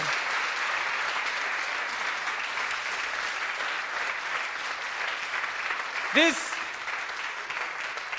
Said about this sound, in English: This was such a strong applause